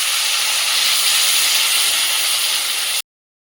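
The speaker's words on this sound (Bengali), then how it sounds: "এবার জল দিয়ে দেবো" Water poured into a hot pan of fried bhetki fish curry gives a loud, steady, bright hiss of steam and sizzle that holds evenly for about three seconds, then cuts off abruptly.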